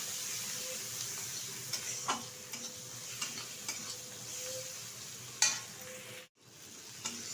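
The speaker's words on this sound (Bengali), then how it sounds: "ভালোভাবে পেঁয়াজটা ভেজে নেব তেলের সাথে।" Chopped onions with turmeric fry in oil, giving a continuous gentle sizzle broken by scraping stirs and a couple of sharper knocks, with a brief drop near the end.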